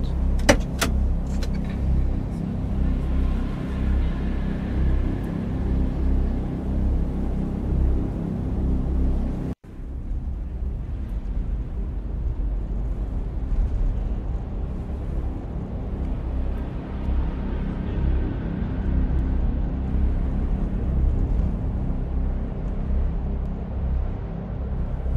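Car driving in the game Rides with Strangers: a steady low engine rumble and road hum fill the scene, broken briefly by a sharp cut near the ten-second mark, then carrying on evenly.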